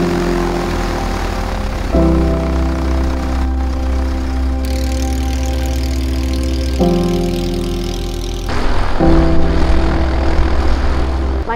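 A Vashon Ranger R7 light aircraft's propeller engine runs loud and close, a steady droning hum with shifting tonal pitch that surges and changes character a couple of times over several seconds, with no talk.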